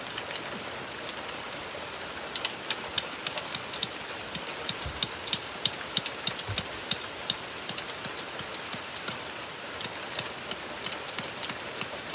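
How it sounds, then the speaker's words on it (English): Steady rain patters on a surface, with scattered sharper drops ticking over a continuous hiss, moderately loud and without voices. "Oh no! It's raining."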